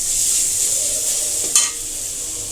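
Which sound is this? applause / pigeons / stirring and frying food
stirring and frying food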